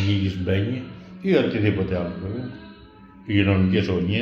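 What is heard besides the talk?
None of the usual background noises is heard.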